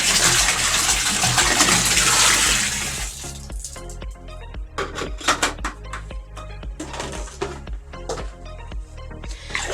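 Laundry Dettol pours into a half-filled bathtub of water, first as a loud, steady gushing splash that stops after about three seconds, followed by scattered drips and small sloshing sounds close by.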